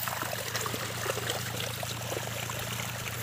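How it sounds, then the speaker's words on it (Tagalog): Water pumped from a creek gushes out of a pump outlet into a rice field, a steady close rushing flow with no pauses. "Dito nagsimula ng lumabas yung tubig galing sa ating water pump."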